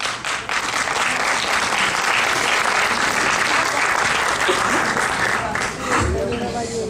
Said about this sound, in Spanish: que se escuche ese aplauso para todos ustedes y para todos los participantes